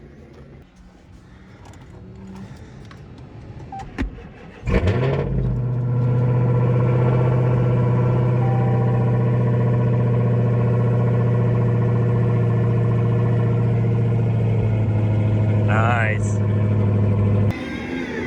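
A 2015 Dodge Hellcat V8, jump-started with a jump box, cranks briefly and fires into a loud, steady, deep idle that holds close and unbroken to the end, with brief talk before the start and a short remark over the rumble.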